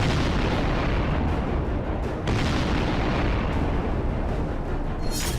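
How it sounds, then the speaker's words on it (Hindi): Explosions and artillery fire in the war in Ukraine, a dense, loud, continuous rumble of booms with heavy low-end blasts and no speech over it. "सुबह का आगाज धमाकों से होता है।"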